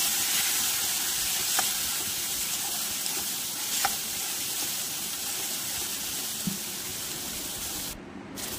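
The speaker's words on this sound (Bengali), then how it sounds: "অল্প একটু জল দিয়ে মশলাকে ভাজবো" Spices frying in a pan with a splash of water, a steady broadband sizzle and hiss running throughout with a few faint clicks of stirring, ending in a brief drop.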